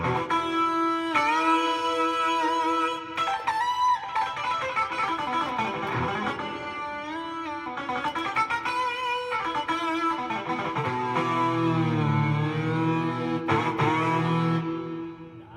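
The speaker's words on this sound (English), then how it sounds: "so distortion guitar." The distortion guitar voice of a Technics KN-1200 keyboard plays sustained, gritty overdriven notes and bends in a continuous phrase, loud and close, with no voices.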